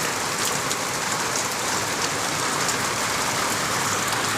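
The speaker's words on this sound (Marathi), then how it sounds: "बाहेर बघा कसा पावसा लागलाय मस्त असा" Steady monsoon rain pours down, a dense even hiss of drops hitting surfaces close by, continuous and unbroken with no voices.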